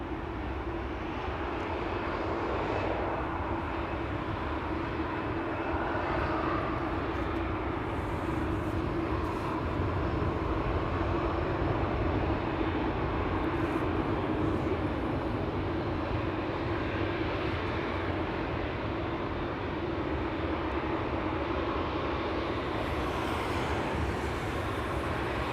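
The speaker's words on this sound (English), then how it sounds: "A 787-10 Dreamliner KLM flight 515" A KLM Boeing 787-10 Dreamliner jet departing Amsterdam Schiphol Airport, a steady loud engine roar sustained throughout without letup, broad and rumbling.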